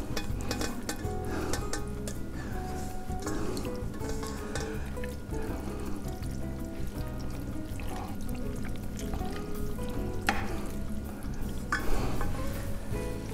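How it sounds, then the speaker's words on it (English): Cooked macaroni and melted cheese being poured and scraped from a pot into a prepared baking pan, a soft, wet, irregular shuffling and clinking with small thuds throughout, fairly quiet and close. "then you're gonna turn off your stove and pour the macaroni"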